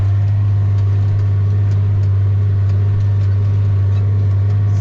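A tractor pulling an old German plough in a field, its engine holding a loud, steady low drone with a strong constant hum and no breaks, close by and with no talking.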